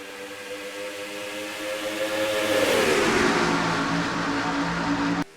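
Racing video game cars at the flag start of a race in Brooklyn, Michigan: a tonal engine drone builds to a loud, rising roar as the pack accelerates, then cuts off abruptly at the end.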